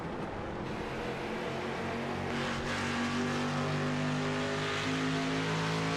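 Race car engines drone and rev steadily in a CORE sim racing game at Kern, a dense layered roar of several cars running close together without pause.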